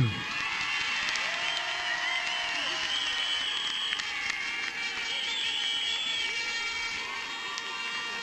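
Crowd applause in a show ring at the international agricultural fair in Paris as a high school team presents its Limousin cattle, mixed with a lively hall, public-address music and a voice over the crowd.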